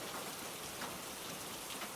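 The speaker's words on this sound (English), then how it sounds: "rain falling" Steady rain falling and pattering on surfaces at a cottage during a midnight thunderstorm, a dense even hiss throughout with no talking.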